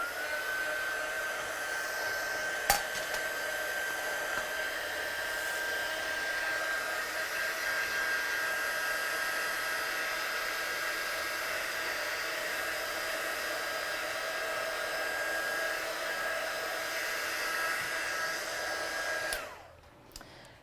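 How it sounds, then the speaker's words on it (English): A heat gun blows steadily for about twenty seconds, drying fast-drying ink on a watercolour stamping project, a constant close whirring roar with a faint steady whine that cuts off at the end. "I'm just going to blast that off with my gun to ensure it's absolutely dry."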